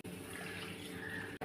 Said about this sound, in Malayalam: മീൻ വേകാനുള്ള ആവശ്യത്തിനുള്ള വെള്ളം ഒന്ന് ഒഴിച്ച് കൊടുക്കാം